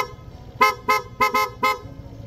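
Loud snail-type Blow Punk horn on a QJ ATR150 scooter sounding five sharp close honks after a brief quiet start, two of them nearly back to back, alone without speech.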